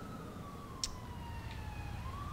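A wailing police siren from a State Police car in GTA IV sweeps slowly up and down, faint and somewhat distant under a steady rumble of engine and traffic noise, with one short sharp click.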